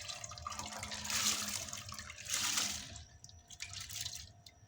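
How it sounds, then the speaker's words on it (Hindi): Soaked lentils tumble from a container into a pot of water while cooking chicken haleem, making wet splashing and trickling bursts in two main surges, close by with no talking. "ये देखिए सारी भीगी हुई दालें जो है ना मैं इसके अंदर डाल दूँगी।"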